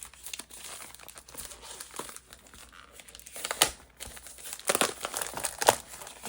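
Paper crafting kit packaging crinkles and crunches as small paper snips cut it open, a close run of rustling bursts with sharper cuts near the end.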